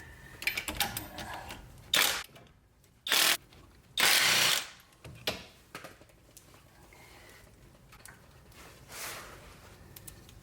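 14 mm timing cover bolts are taken off a car engine with a power tool: several short, loud ratcheting bursts near the middle, separated by quiet shop background.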